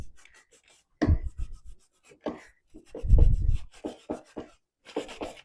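Fusion aging wax worked by hand into a wooden cabinet cubby, giving several close, soft rubbing and wiping strokes in short bursts with brief pauses between them.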